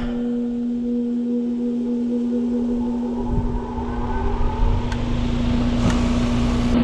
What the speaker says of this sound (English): that was the nice soft start that the micro-air EasyStart gives. So that fired up